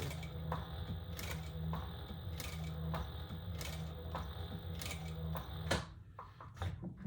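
A sewing machine stitches a wallet with a steady, rapid mechanical whir and rhythmic clicking, close and continuous, slowing and stopping near the end with a few separate clicks.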